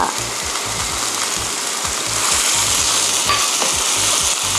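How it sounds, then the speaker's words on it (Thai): Udon noodles with crab sticks, seasoned with sugar, mirin and soy sauce, sizzle and hiss steadily in a hot pan while a utensil scrapes and stirs in a regular rhythm, close and loud throughout. "นี่เดี๋ยวเราจะผัดต่ออีกแป๊บหนึ่งค่ะ"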